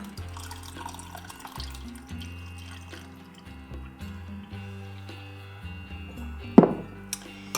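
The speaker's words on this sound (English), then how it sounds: "Pour some hot water on that to dissolve it." Hot water poured into a mug onto a teaspoon of blackstrap molasses, a soft pouring trickle under steady background music, with a brief sharp splash and clink near the end.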